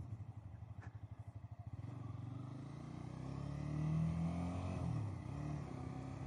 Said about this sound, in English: Clutch, both brakes, come to a stop.